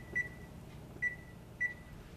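An oven timer being set for ten minutes gives three short, clear electronic beeps, evenly spaced over about two seconds, over a quiet kitchen hum with no talking.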